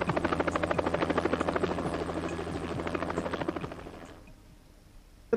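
A Ka-25 anti-submarine helicopter gives a steady, rapid rotor thump with a loud turbine whine. It holds for about four seconds, then drops away to a faint rumble.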